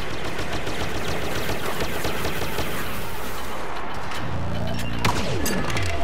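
Intense blaster gunfire fills a Star Wars Battlefront walker assault battle on Hoth. Rapid bursts overlap with crashes and explosions for the whole stretch, with a sharp impact near the end.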